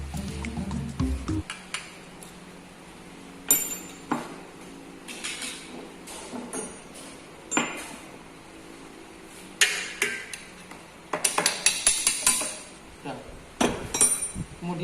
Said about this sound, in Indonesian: Langkah yang pertama, kita lepas handle kopling.